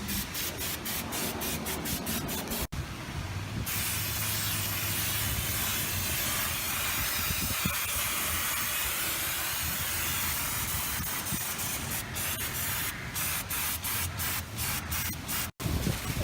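Brake cleaner sprays onto car parts in a long, continuous aerosol hiss, loud and close, with a few brief clicks and rattles at the start and end.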